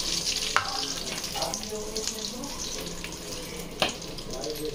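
Puris deep-frying in hot oil, a steady close sizzle and bubbling throughout with a couple of sharp splashes or clinks as another puri goes in; a voice speaks faintly.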